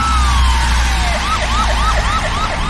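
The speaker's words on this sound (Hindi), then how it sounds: "अरे लगता है कि एम्बुलेंस भी आ रही है।" An ambulance siren wails close and loud, first a long descending tone and then rapid repeating yelps, over low traffic rumble on a road at an accident scene, with no one speaking.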